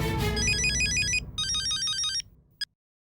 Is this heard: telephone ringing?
yes